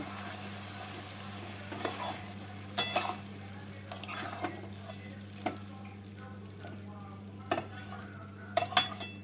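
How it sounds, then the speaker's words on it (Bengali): Tangra fish curry being stirred in a pan after the heat is turned off, with a spoon scraping and knocking against the pan in scattered strokes over a faint, quiet sizzle. "এবার মাছের সাথে মিশিয়ে নেব"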